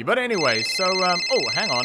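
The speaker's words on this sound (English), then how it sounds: "that's my phone again" A telephone rings in a farming roleplay game, its warbling electronic ring repeating several times close and loud while someone talks over it.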